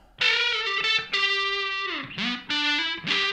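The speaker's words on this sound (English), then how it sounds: "I'm just going to run through a couple of fuzz tones in that lead kind of style" An electric guitar plays lead lines through a Mad Professor Fire Red Fuzz pedal, with loud, sustained, heavily fuzzed notes, a bend and several short phrases with brief gaps between them.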